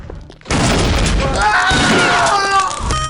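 A loud, sustained burst of shotgun fire from a group of enemies in the video game Kingpin: Life of Crime, dense booming blasts running for several seconds, mixed with voice-like shouting.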